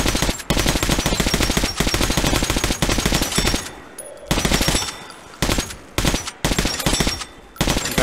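Rapid gunfire hammers at training dummies in Metro: Last Light Redux, long loud bursts of automatic shots broken by brief pauses and a few short volleys.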